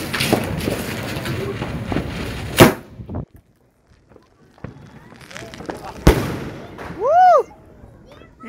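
Diwali firework bursts crack loudly, with a whistling rising tone and crackling, and quiet gaps between the blasts.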